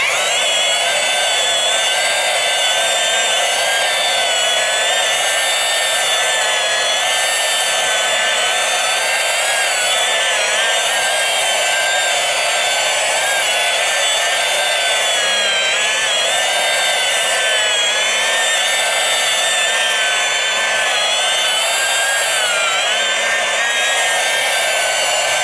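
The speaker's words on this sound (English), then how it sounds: "I'm still polishing it exactly like I would do with a playfield" Steady, loud whirring of a power polisher buffing Bally Zenon pinball playfield wall art, a continuous broadband drone with slight wavering pitch and no talking throughout.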